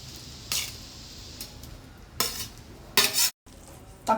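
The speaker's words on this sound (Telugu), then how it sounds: "ఇది బాగా కలుపుకోవాలి" Cluster beans curry made with little oil and no masala being stirred in a pan: a few separate scraping, rustling stirs with a faint sizzle between them, close and alone.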